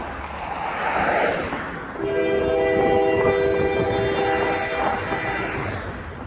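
Rail rumble and wind build before a loud, sustained freight train horn blares for several seconds, with the heavy rolling noise of the departing train underneath, on a busy railroad in Goshen, Indiana.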